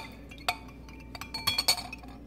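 A spoon stirs a sour candy drink in a small shot glass, giving a few light, sharp clinks against the glass: one early and then a quick cluster, close and quiet.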